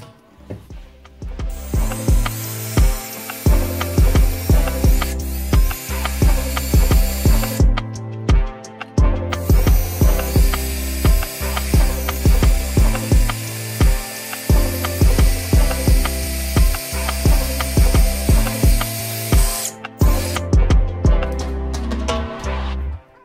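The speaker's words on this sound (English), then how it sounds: "So it's important to just be careful when you start drilling through here." Power drill boring through a Subaru firewall, a loud steady mechanical whir running almost continuously with a few short pauses, close up and with no talking.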